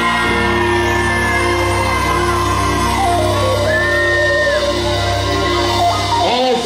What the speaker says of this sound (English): Scream if you're with me out here.